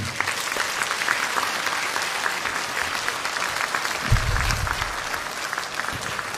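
A concert crowd at a programme in Rajkot claps with raised hands, giving dense, sustained applause from many people with a brief low thump partway through.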